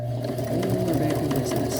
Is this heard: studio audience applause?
no